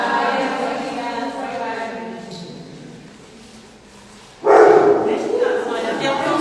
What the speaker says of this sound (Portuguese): Olha, até o cão se despede, está a ver?